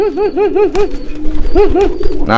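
A thin, sickly domestic pigeon recovering from illness, held at a bird market, coos in rhythmic rolling bursts close up, with a short pause midway and a brief noisy rustle at the end.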